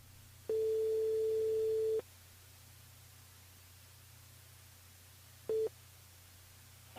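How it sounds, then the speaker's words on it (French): A telephone ringing tone heard over a radio call line, one long steady tone followed by a pause and a shorter tone, faint against a constant line hiss. "Ça sonne, ça sonne."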